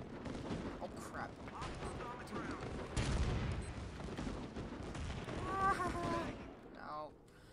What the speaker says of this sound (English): tank, anti-aircraft tank